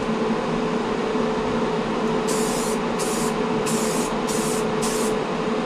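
An airbrush or spray hisses steadily while gloss clear coat goes over flat black on a scale model, a constant near hiss overlaid by several short, sharper bursts of spray with no talking.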